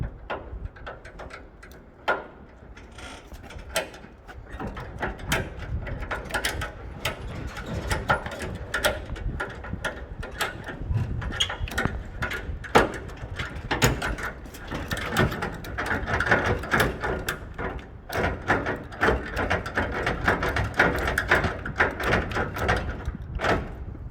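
A braked trailer's jockey wheel is wound down by its crank handle, producing a long run of ratcheting, grinding mechanical clicks with irregular rhythm, steady and close for over twenty seconds.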